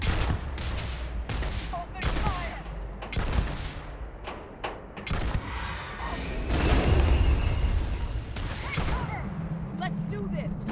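Gunfire in the video game Starfield, a series of loud, sharp shots and bursts spread across the stretch, some in quick volleys with booms among them, and a brief, busier spell of fire in the middle.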